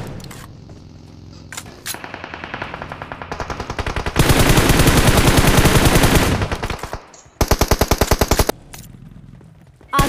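Sustained automatic rifle fire from an M416 with a 3x scope in a mobile shooting game, with long loud sprays of rapid shots broken by short pauses and a final close burst.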